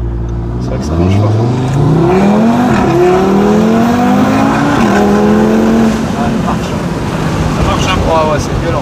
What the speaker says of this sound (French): le pop comme ça, je suis là, au passage de rapport